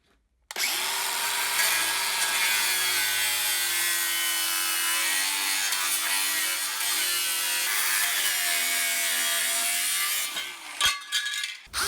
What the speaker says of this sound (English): after I finished cutting the shape out of the grinder